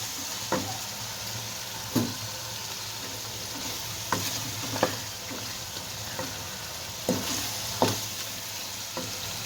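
Meat and masala frying in a pan for a tinda gosht curry: a steady low sizzle runs throughout, broken by several sharp scraping stirs at irregular intervals, close and moderately loud, with no talking.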